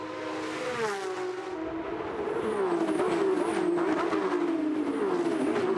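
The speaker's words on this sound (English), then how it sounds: "Hope you're enjoying the sights and sounds of these fantastic GT sports cars." Porsche Carrera Cup GT race cars scream past one after another at Toronto, engines whining and dropping in pitch as they pass, loud and close, then more engines revving beyond.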